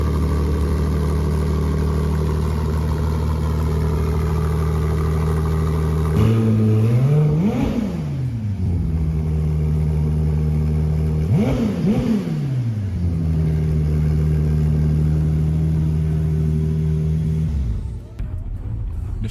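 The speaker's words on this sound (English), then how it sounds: "you can hear a characteristic sound or note of V6" Ferrari 296 GTB V6 engine mounted behind the driver, holding a steady drone while driving. Two quick rev surges climb and drop back, and a quieter wind-down follows near the end.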